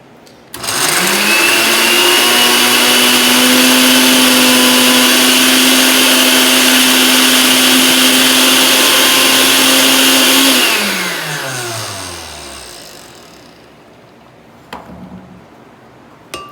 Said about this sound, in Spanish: la vamos a poner en la licuadora y la vamos a licuar